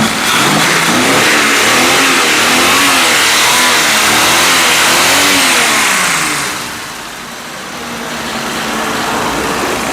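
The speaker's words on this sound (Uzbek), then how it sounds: "Motorcha yaxshi ishlayapti." A Ford Mustang engine revs hard and loud nearby, its pitch rising and falling in repeated swells before dropping away and building again to a sustained roar.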